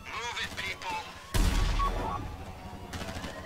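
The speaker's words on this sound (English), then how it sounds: "Those explosions are sounding real close." Rapid gunfire rattles in bursts in Grand Theft Auto 5, then a heavy, booming explosion hits and rumbles, followed by more scattered shots close by.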